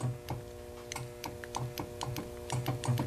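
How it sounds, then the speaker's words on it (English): Hydraulic solenoids on a backhoe thumb click as a joystick button is pushed, giving a run of light, sharp clicks at a steady pace over a low continuous hum. "What I'm hoping to hear is a healthy click from both solenoids when I push either button."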